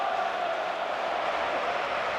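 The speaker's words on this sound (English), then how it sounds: "the crowd is urging them to shoot" Football stadium crowd in PES 2009, a steady, dense roar of massed voices that holds at a constant level throughout.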